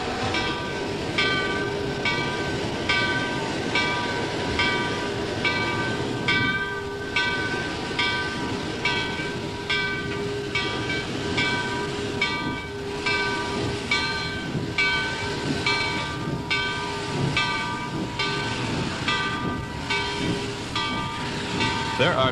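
Gettysburg Railroad Baldwin 2-8-0 steam locomotive No. 76 hauls two steel coaches with a loud, steady rolling clatter and regular rhythmic beats, sustained close by throughout.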